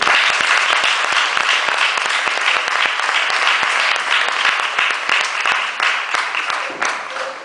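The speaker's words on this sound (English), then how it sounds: "Please join me in a final applause for our speakers" Dense, sustained applause from a seated audience after a talk on natural law, loud and even for several seconds before tapering slightly at the end.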